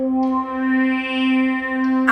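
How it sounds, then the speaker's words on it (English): A sustained synthesizer tone holds one steady pitch with rich, buzzy harmonics, swelling slightly in loudness over about two seconds. "It is a synth that we use in our live set."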